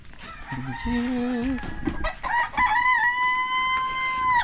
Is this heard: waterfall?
no